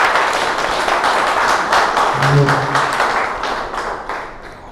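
Audience gives a hearty round of applause welcoming Anil Tyagi at his retirement function, dense continuous clapping that stays loud throughout and tapers slightly at the end, with a brief low tone mixed in midway.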